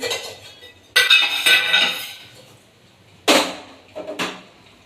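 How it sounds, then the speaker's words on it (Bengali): Kitchen utensils, pots and pans being put away and arranged in a home kitchen, clinking and clattering in a few separate bursts with quiet pauses between them, close by and with no talking. "বাসনগুলো গুছাতে হবে দেখো না সব বাসন রয়েছে"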